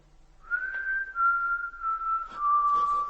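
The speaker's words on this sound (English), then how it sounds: "I'll whistle, and you come to me" A single long, steady whistled note, clear and close, held for a few seconds with a slight dip in pitch toward the end.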